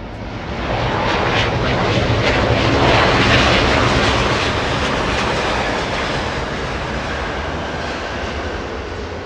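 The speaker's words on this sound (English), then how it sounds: "We'll end today's show with another Super A380 from the spirit of Australia" Qantas Airbus A380 arriving at Los Angeles International Airport, a loud, steady jet roar that swells through the middle and eases slightly toward the end, heard alone without talk.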